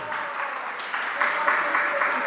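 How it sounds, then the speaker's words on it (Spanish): A church congregation claps together in a brief, moderately loud round of applause that builds slightly over its short span. "Un aplauso, lo han hecho muy bien todos."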